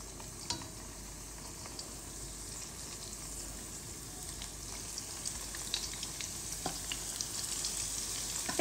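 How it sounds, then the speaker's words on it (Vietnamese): Pork spare ribs frying in plenty of hot oil, a continuous sizzle with scattered sharp pops and crackles, close and fairly loud, no talking. "Bây giờ thì em sẽ chiên sườn non."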